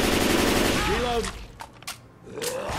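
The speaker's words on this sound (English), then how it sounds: "He's shooting." Gunfire in the video game Left 4 Dead 2, a loud burst of shots at the start that fades out, followed by a few sharp isolated cracks, with voices mixed in.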